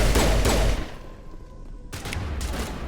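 Rapid bursts of weapon fire crackle loudly in Mass Effect combat on Zhu's Hope against the Geth, dropping to a lull before the volleys pick up again near the end.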